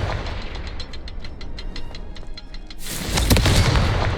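A Confringo spell explosion in Hogwarts Legacy, a sudden loud, bright blast that erupts after a stretch of rhythmic clicking and low rumble, then roars on.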